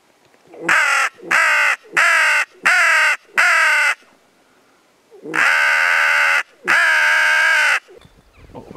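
Crows caw nearby during a crow hunt in Österlen: five loud, harsh, evenly spaced calls followed by two longer drawn-out caws, with quiet between.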